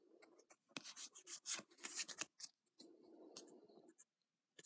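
Foil and plastic of a Pokémon card booster pack from a blister pack crinkle and tear in close, irregular bursts of rustling, with a short quieter rubbing stretch near the end.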